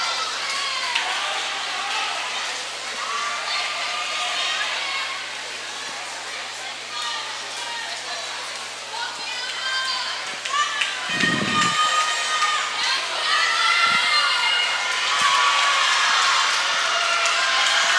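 A crowd cheering swimmers at a varsity high school swim meet in an echoing indoor pool hall, a continuous wash of shouts and whoops with a commentator talking over it.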